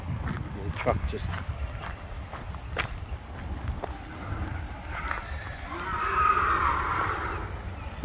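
Pigs scream and squeal inside a slaughterhouse shed in Western Australia, a chaotic chorus of shrill cries rising and falling at middle distance, with a louder burst near the end over a steady low background rumble.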